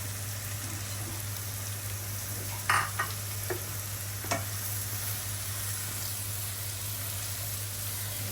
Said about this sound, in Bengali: এই ভেজিটেবলটা কতক্ষণ ভাজতে হয়? একটু হালকা একটু ভাজা ভাজা ফ্লেভারটা হলে ভালো লাগবে।